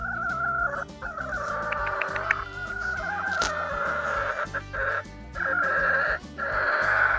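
Several backyard chickens, including a white hen, cluck and murmur close by in a continuous, overlapping chatter with a few sharper calls.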